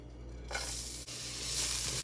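Cinnamon, bay leaf, cardamom pods and leek whites dropped into hot fat, setting off a steady, fairly loud hissing sizzle that starts abruptly and holds on alone without any talk.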